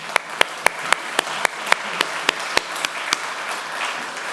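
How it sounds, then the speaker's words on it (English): A congregation at a holiday gathering gives itself a round of applause. Sharp, evenly spaced claps sit close and prominent over a softer bed of wider clapping that gradually blurs and settles toward the end. "So I want everyone right now to give yourself a big applause"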